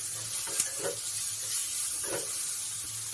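Tomato, turmeric and salt fry in a pan while being stirred together, giving a steady close sizzle and hiss with occasional soft scraping and clinking from the stirring.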